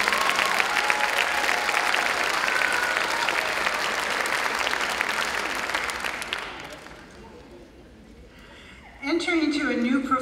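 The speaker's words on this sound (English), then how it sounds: "just applaud all your family and friends who are here" Graduates at a nurse pinning ceremony applaud their family and friends in sustained crowd clapping that swells, then dies away over several seconds, before a voice begins speaking over a microphone.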